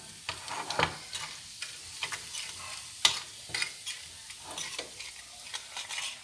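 Peppers tossed into hot oil for a village zucchini dish sizzle and crackle up close, broken by intermittent stirring scrapes and pops, with no talking.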